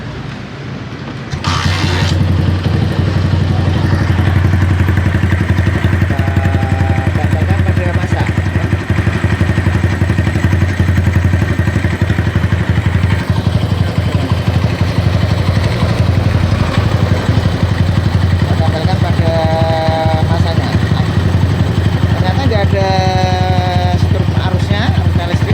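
A Honda Tiger motorcycle engine with a charging fault starts and then runs at a steady, close idle with a dense mechanical rumble, while someone talks over it.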